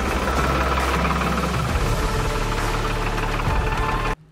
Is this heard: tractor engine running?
yes